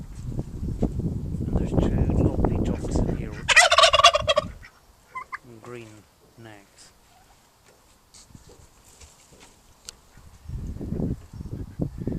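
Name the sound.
turkeys gobbling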